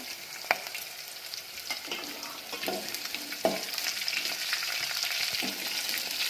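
Long-sliced onions hitting hot oil in a pan for menthe rice, a steady close sizzle with a few sharp clinks and stirring scrapes, no voices.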